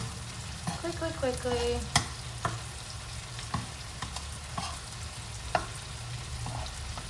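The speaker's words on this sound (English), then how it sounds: "I'm going to turn over each shrimp. They've cooked for about 2 minutes on each side. Using tongs" Shrimp sizzle softly in a hot pan while tongs click and tap as each piece is turned, giving a few sharp knocks over a low, steady fry.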